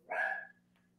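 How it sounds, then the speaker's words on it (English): A single dog bark comes from the background, fairly faint and brief, followed by a softer trailing yip over a low steady hum. "Sorry about the dog in the background there."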